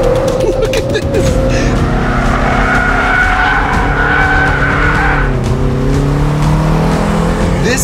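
A BMW M3 Competition, a front-engine, rear-wheel-drive car, drifts around a race track with loud, sustained tire squeal over a droning, high-revving engine. Someone talks over the noise throughout.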